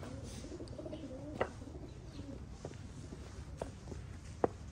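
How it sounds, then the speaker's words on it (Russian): Small birds sing and pigeons coo softly in the grounds of a hotel in Chernivtsi, with a few faint footsteps or taps rising over a low steady outdoor murmur. "Птички поют."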